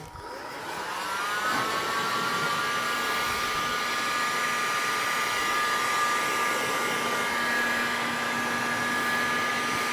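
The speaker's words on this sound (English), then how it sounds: "So what I do to make this dry is I use a hot air gun." A hot air gun blows a steady, loud whirring hiss with a high whine while drying repaired bodywork on a rotten Citroen C1 in a workshop, starting up in the first second then running continuously without talk.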